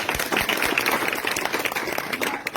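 Audience applause at an outdoor tree planting event, many hands clapping in a dense, continuous patter at moderate loudness.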